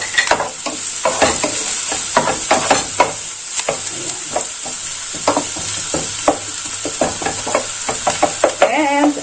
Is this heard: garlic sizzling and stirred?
yes